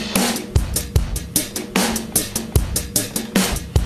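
Real acoustic drums in an isolated dubstep track play alone, with punchy kick and snare hits in a steady, spaced pattern and sharp cymbal crashes at regular intervals, close and loud.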